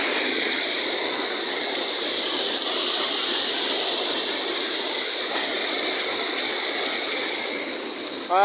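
Cold water pours steadily from a stream spout beside a gem-bearing river in Sri Lanka, a continuous close hiss with no break until a brief bump at the very end.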